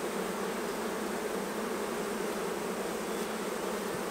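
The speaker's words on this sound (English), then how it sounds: "And again, we shake the bees off just to check for any additional queen cells" Honey bees buzz steadily as they are shaken off a comb during a hive check for queen cells, a dense, even hum of many insects close by without pause.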